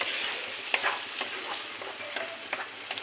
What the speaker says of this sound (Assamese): এতিয়া ভালকৈ লৰাই দিম